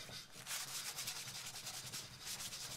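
Sandpaper rubbing paint off a Stratocaster guitar body during relicing, a steady scratchy back-and-forth scrubbing with rhythmic strokes, close and fairly loud, with no talking.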